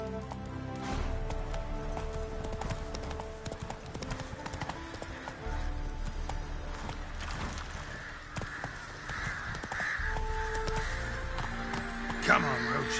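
Roach the horse galloping in The Witcher 3, a rapid, rolling clatter of hoofbeats that runs close and steady, with a voice urging the horse on and a few background bird caws.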